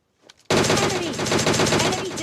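Sustained DP-28 machine gun fire in an online shooter game, a dense continuous burst of rapid rounds that erupts suddenly after a brief quiet moment and stays loud and close to the end.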